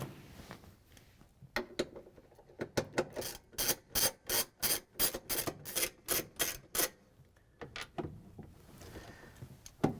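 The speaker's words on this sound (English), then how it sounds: "We're going to use a 3/8 inch socket with the ratchet and the extension to take out the bolts" A ratchet with a 3/8 inch socket and extension backing out washing machine bolts, a quick run of even, close clicks in a steady rhythm, with a few scattered clicks before and after, no talking.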